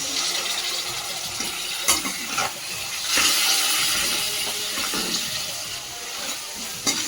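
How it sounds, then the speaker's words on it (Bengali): Water splashes into a pan of cooking spice masala for mung dal, producing a steady rushing, bubbling sizzle with a few brief clatters, close and continuous without speech. "জন্য দিয়ে দেবো অল্প একটু জল"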